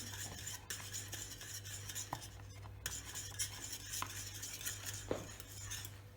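A spoon stirs sütlaç milk pudding in a pot as it boils, with faint scraping and occasional metallic clinks against the pot over a low steady background hum; quiet and close, no talking.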